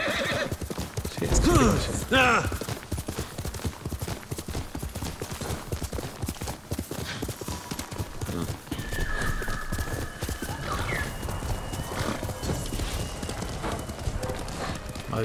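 In the video game Ghost of Tsushima, a horse's hooves clip-clop in a steady galloping rhythm while it neighs loudly near the start; someone speaks briefly over the game sounds.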